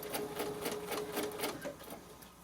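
A sewing machine stitches a quilt block for a pillow in a steady, moderately close run of rapid stitching, the rhythm pulsing in even bursts with no pause.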